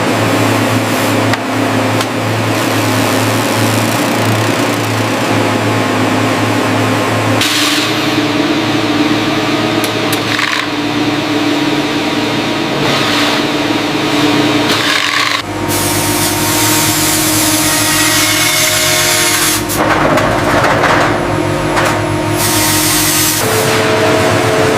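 A hide scraping machine in a Brahman white bull horn and leather factory runs loud and continuous, a dense rushing, grinding roar that shifts in tone a few times as the work moves on. No voices are heard over it.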